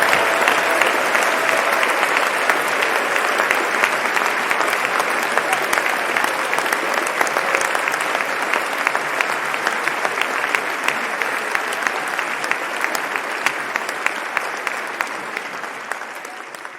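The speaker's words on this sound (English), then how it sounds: "please join us in a round of applause" An audience at the 2019 United States Naval Academy Alumni Association Distinguished Graduate Award medal ceremony applauds in a full, steady roar of clapping that holds for over fifteen seconds and fades only slightly at the end.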